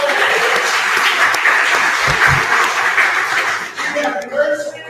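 An audience at a film premiere gives a steady round of applause, dense clapping with some chuckles mixed in, then a voice starts talking as the clapping fades.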